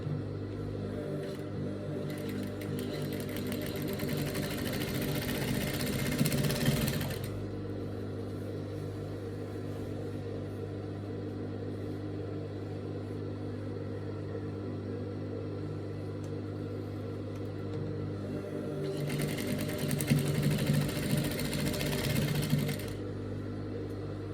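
A sewing machine stitches a dress side seam in two bursts of rapid whirring, with a quieter steady motor hum between them.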